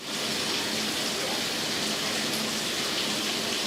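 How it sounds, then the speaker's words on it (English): Water runs steadily from a bathtub spout with the diverter plunger pulled up, a constant, fairly close hiss and splash that continues unbroken throughout. "You can see the tub is running really well."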